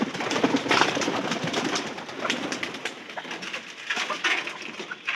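Pigeons being kept and fed rice give a steady mix of soft cooing and chatter at close range, busy and continuous throughout with no speech.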